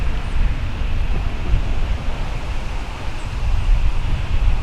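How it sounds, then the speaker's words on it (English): Outdoor wind pushing through trees, heard as a constant low rumbling roar with gusty buffeting across the microphone, fairly loud and unbroken, with no speech. "I'm waiting for the wind to pick back up."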